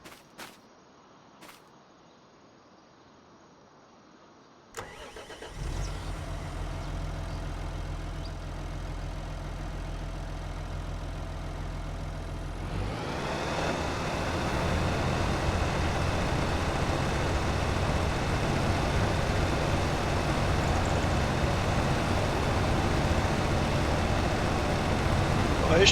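A tractor engine starts up in a farming video game, a brief click giving way to a steady idling rumble that grows fuller and louder as it runs, with no one talking.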